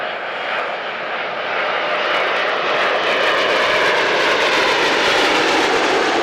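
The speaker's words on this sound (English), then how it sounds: "These people standing behind an Airbus A320 taking off, which can be quite dangerous." Airbus A320 jet taking off, heard from close behind as a loud, roaring engine wash that swells and holds steady over several seconds.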